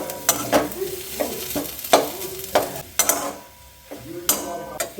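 Khoa kheer is fried in a little ghee in a kadai for patishapta pitha filling, with a soft sizzle under repeated close scraping strokes of a spatula at an irregular rhythm and no talk.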